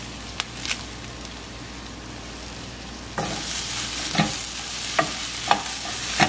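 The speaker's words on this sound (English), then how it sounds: "we're going to add about a cup of spinach, and we're going to just let that wilt down with our squash and peppers and green" Spinach wilting in a pan with squash, peppers and green onions; a quiet sizzle jumps louder partway through, with periodic spatula scrapes and taps against the pan, close by.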